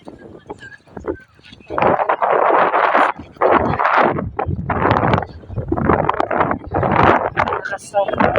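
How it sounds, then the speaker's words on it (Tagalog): Strong gusts batter the microphone in loud, rough rumbling bursts, broken by brief lulls, with a few faint knocks in between. "Lakas ng hangin."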